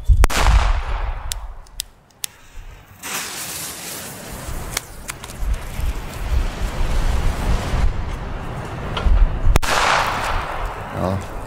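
Loud, sharp outdoor blasts from D-Böller firecrackers (2.8 g, CE F2 class) during German New Year's Eve celebrations, several bursts scattered across the stretch with echoing crackle and rumble between them.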